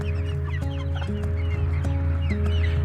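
Close, steady clucking from a batch of American Breeze chickens with a rooster among them, with overlapping calls and soft repeated clucks over a constant low hum.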